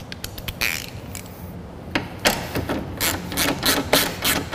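Socket ratchet with an extension working a 10 mm bolt on a Lexus RC300 headlight, heard as bursts of quick mechanical clicking spaced across the clip, fairly close and with no talking.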